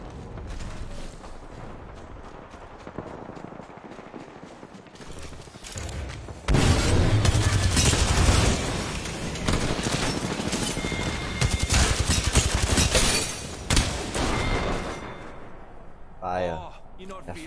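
Dense Apex Legends gunfire during a livestream match near several jump ships: heavy, continuous bursts of shooting and booms dominate the middle stretch, loud and close, with quieter gameplay before and a fade at the end; speech present.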